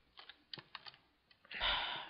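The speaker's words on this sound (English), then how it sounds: "As you can probably hear, I'm a loud keyboard tapper." Loud typing on a computer keyboard comes as a series of sharp, close key clicks in an uneven rhythm, followed by a heavier, longer clatter of several keys struck together near the end.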